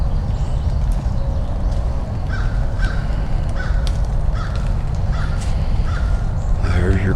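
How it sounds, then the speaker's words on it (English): A crow caws several times in short, harsh bursts at moderate distance, set against a loud, busy outdoor background with faint voices. "There's your crow."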